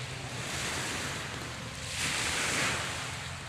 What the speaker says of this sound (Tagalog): sakto lang yung alon natin.